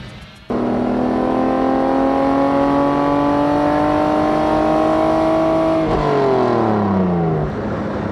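A Lamborghini Diablo supercar engine revs loud and close, holding a steady high roar for several seconds before the pitch falls away as the throttle eases off, with no talking.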